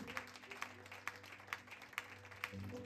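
A church congregation claps to acclaim Jesus, sharp claps landing at an even pace, roughly twice a second, over a low background hum.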